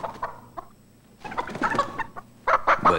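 A chicken in a Carl's Jr. commercial clucks in short, close bursts, growing louder toward the end, with some background noise between the calls.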